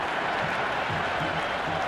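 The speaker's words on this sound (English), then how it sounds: "The crowd is electric right now." Stadium crowd applauding and cheering in the cricket video game Cricket 26 during a Pakistan versus Australia T20 match, a steady, dense roar of clapping that holds loud and unbroken throughout.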